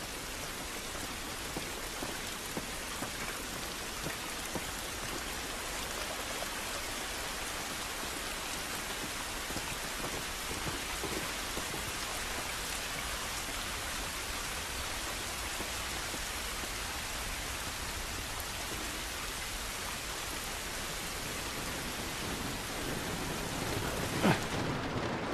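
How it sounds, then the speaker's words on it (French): Heavy rain with thunder from The Last of Us pours down in a dense, steady hiss for the full length, with faint low rumbles underneath and no talking. "Cette pluie ne va pas nous aider."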